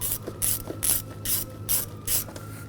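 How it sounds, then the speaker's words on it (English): A ratchet with an 8mm socket loosens the intake snorkel clamp on a 2000-06 Chevy Tahoe, a close, crisp run of about six rhythmic clicking ratchet strokes with short gaps between them. "I'm going to loosen up the clamp right here, use a 8mm socket or a straight blade screwdriver."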